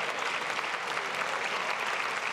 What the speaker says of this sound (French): vous pouvez les applaudir toutes les deux